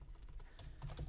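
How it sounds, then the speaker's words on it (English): Typing on a computer keyboard, a steady run of quiet, close key clicks throughout, with no talking. "So I'm typing three examples in"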